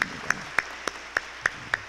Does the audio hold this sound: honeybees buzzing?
no